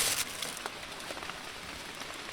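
Steady rain falls outdoors in a rural Thai countryside setting, a dense, even hiss of drops on surfaces with a few louder patters, no voices.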